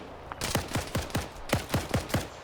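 Rapid gunfire in a video game, a quick string of about eight sharp shots in a loose rhythm at moderate distance, with no talk.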